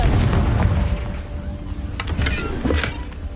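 A Confringo fire spell exploding in the video game Hogwarts Legacy: a rumbling bed of blasts with a few sharp booming bursts near the end, loud and close.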